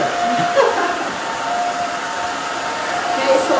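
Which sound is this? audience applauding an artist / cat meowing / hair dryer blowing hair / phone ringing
hair dryer blowing hair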